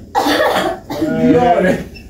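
A person coughs loudly up close in two rough bursts after drinking liquor, the second longer and more strained.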